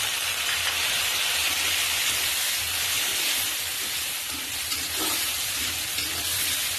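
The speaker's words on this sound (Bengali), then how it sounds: "মশলাটা ভালোভাবে কষানোর জন্য দিয়ে দিচ্ছি সামান্য পরিমাণে জল।" Potatoes and shrimp with turmeric, salt and cumin powder sizzling in a pan after a little water is added, giving a continuous, loud, even hiss with no talking.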